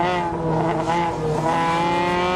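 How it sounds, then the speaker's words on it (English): A pack of stock cars roars around a NASCAR racetrack, a loud, steady, dense engine drone with overlapping pitches that holds throughout, with no talking. "this whole pack of cars on the racetrack relatively close with each other's speed"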